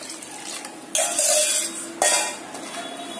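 Water splashes into a metal pot of tomato kuzhambu in two short pours, with clinking of a utensil stirring against the pot in between.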